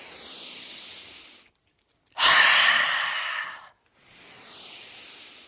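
Forceful yogic breathing exercise using a soft "ha": three long, breathy rushes of air, a steady inhale, a sharper, louder exhale after a short pause, then another inhale, close and alone.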